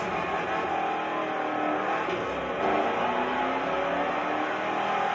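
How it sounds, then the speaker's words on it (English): In a rainy early-morning drift event in The Crew Motorfest, a muscle car's engine drones steadily as it slides, with tire noise under a continuous mid-level roar. "Oh, drifting in a muscle car this time."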